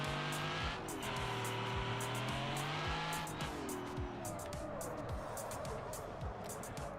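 A race car braking hard from speed, with engine tone sliding down through the gears and tires scrubbing, loud and close, a continuous deceleration with no talking.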